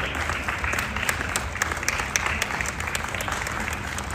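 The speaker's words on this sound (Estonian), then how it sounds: "Sealt tuleb Kätlin, aplaus" An audience claps continuously at a museum book-year opening as a book editor is called up, a dense even wave of applause without voices on top.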